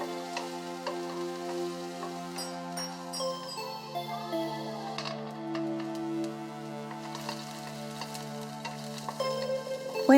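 Chopped onions fry with cardamom and cloves in a hot pan, giving a steady close sizzle with faint clinks of stirring and no talk.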